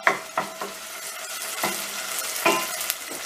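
Minced meat sizzles steadily in a hot pan while a utensil scrapes and stirs it in several distinct strokes, close up, with no talking.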